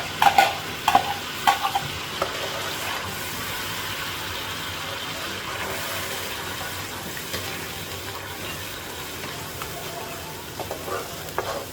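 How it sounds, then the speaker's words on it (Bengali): Onion paste fries in a pan with bay leaves, cinnamon and cardamom, giving a steady close sizzle with a few sharp stirring clatters at the start and again near the end. "পেঁয়াজ বাটা দিয়ে রান্না করব। আমি দিয়ে দিচ্ছি পেঁয়াজ বাটা।"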